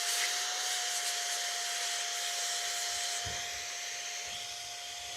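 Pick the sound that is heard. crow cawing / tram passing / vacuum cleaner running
vacuum cleaner running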